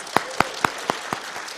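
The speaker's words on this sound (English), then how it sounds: "Can we get some applause for that?" Sparse, evenly spaced claps from a convention panel audience ring out about four per second, gradually fading, with a faint murmur of background noise beneath.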